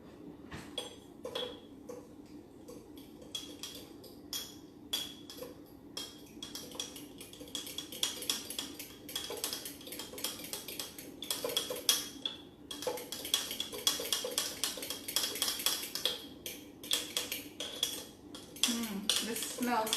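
A spoon clinks and scrapes repeatedly against a jar while chia seeds are stirred in for breakfast, a quick irregular run of close, light taps and rattles.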